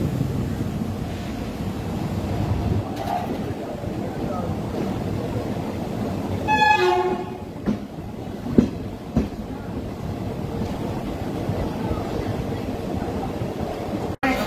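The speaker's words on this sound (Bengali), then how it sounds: "আন্দুলের কাছাকাছি চলে এসেছি, বা ট্রেন আমাদের আন্দুল ঢুকছে।" A train pulling into Andul station: a steady low rumble of the moving carriages from inside, with a short squeal of brakes midway and a few clanks.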